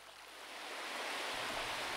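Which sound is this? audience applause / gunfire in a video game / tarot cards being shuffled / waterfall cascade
waterfall cascade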